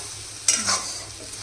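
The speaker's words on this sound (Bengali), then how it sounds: "এই যে তরকাটা জাল দিচ্ছি একটুখানি সামান্য একটুখানি জল স্প্ল্যাশ করলাম" A splash of water hits a hot pan of curry being heated, giving a single short, close burst of hiss and sizzle that quickly fades.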